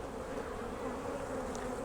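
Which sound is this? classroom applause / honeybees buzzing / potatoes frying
honeybees buzzing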